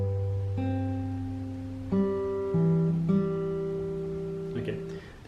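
Slow acoustic guitar picking from a song, several single notes plucked one at a time with ringing sustain, close and clear, played alone without voices.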